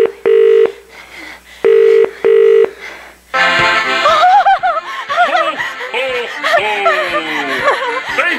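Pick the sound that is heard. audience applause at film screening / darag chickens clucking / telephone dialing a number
telephone dialing a number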